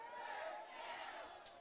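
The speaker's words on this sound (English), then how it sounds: "Hear this crowd here tonight. We've got a packed house for the Senators." A packed crowd at a high school football game in a stadium at night makes a distant, steady roar of cheering and chatter for a brief moment, faint and without a clear peak.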